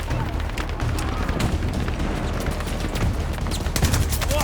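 Gunfire in the video game Battlefield 2042: a dense, continuous stream of rapid shots and booming impacts, loud and unbroken throughout, with a voice faintly beneath.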